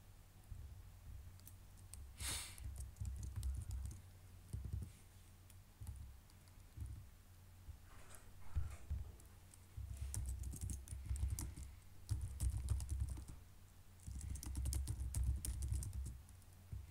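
A computer keyboard typed on steadily in bursts of rapid clicking with short pauses between, close and moderately loud, with no voices.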